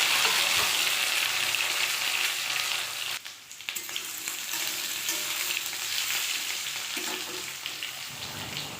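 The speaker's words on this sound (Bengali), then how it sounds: "লবণ হলুদ দিয়ে ভালো করে লাল লাল করে আলুগুলিকে ভেজে নেবে" Small peeled potatoes frying in oil in a wok with salt and turmeric, a loud continuous close sizzle like rain on a surface, briefly dipping midway before resuming steadily, no voices.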